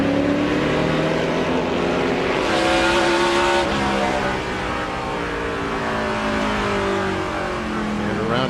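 Race cars at Indianapolis Raceway Park during the 2005 Kroger 200, with one car spinning out; loud, close engine roar with shifting pitch as the cars rev and slow, continuous for the whole stretch.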